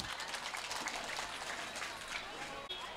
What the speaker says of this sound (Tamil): நல்ல கைத்தட்டல் கொடுக்கலாமே.